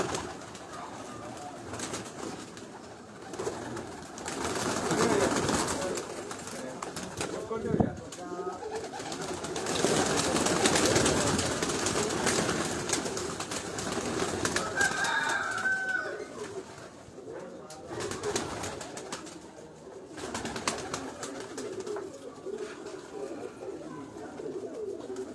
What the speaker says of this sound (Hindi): उस्ताद जी कबूतर बाहर निकाले ना